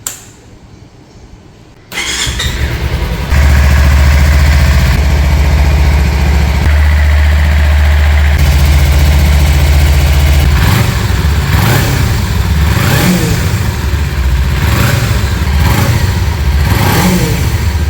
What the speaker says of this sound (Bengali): তো চলুন গাড়িটির ইঞ্জিন সাউন্ড একবার শুনে নেওয়া যাক